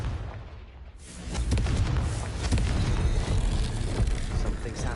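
A Confringo spell bursts into an explosion in Hogwarts Legacy, a sudden deep boom about a second in that swells into a rumbling, roaring blast sustained to the end.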